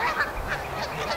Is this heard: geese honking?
yes